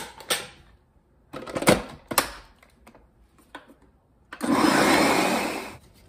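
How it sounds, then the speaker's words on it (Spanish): A kitchen blender whirs for about a second and a half, blending a coconut and pineapple dessert, after several sharp clatters and knocks. "A batir, a licuar."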